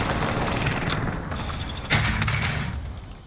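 Gunfire in Call of Duty Warzone: a continuous, loud burst of shooting with a heavy thump about two seconds in, then a slight fade toward the end.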